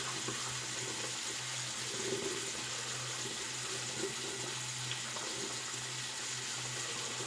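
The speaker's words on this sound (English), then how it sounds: "I'm going to have a little water in." Water runs steadily from a tap into a basin for wet shaving, a constant close hiss with a low hum beneath and no voices.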